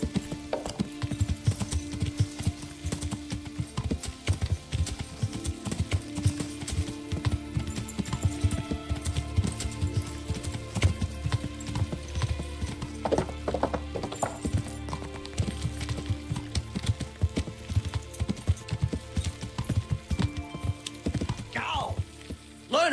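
Horse hooves clip-clopping in the video game Avowed, a steady running rhythm of hoof beats under game music, with a few whinnies and a person talking over it.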